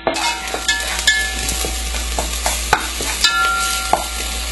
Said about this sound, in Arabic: راح أضيف الثوم وقلبه شويات معاه